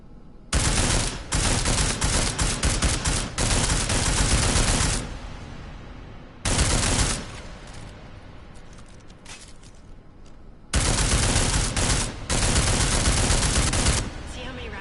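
Sustained automatic gunfire in the video game Deus Ex: Mankind Divided rakes an armored target in three long, loud, dense bursts separated by brief pauses.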